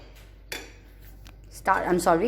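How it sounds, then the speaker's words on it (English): A utensil clinks against a bowl a few times while chocolate mud cake batter made with atta and vanilla essence is mixed, sharp and close, before a voice starts talking near the end. "Now we will start mixing the batter."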